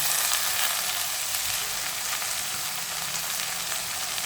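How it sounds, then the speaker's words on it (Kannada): Carrots, beans and field beans (avarekalu) frying in a pan, a close, continuous sizzling hiss that stays steady and even throughout, with no talk. "ತೊಳೆದಿಟ್ಕೊಂಡಿರೋಂಥ ಕ್ಯಾರೆಟು ಮತ್ತು ಬೀನ್ಸು, ಅವರೆಕಾಳು ಹಾಕೋತಾ ಇದ್ದೀನಿ."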